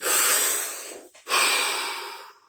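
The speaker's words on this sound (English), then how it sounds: "3 deep breaths. Deep as you can." Deep, noisy breaths drawn close to the microphone during a guided stillness exercise, a long inhale, a brief pause, then a second long breath that fades away, with no talking.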